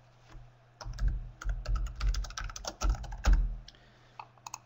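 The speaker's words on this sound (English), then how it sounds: "As soon as I type anything into here" Fingers tap out a quick, irregular run of keystrokes on a computer keyboard, close and fairly quiet, with brief pauses between bursts and no talking.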